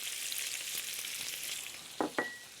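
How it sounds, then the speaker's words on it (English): Chopped onion and carrot fry in a pan after pork belly has browned, a soft continuous sizzle close by, broken near the end by two sharper clanks of a utensil. "the idea here is just to soften the onion a little bit and get the carrots cooking"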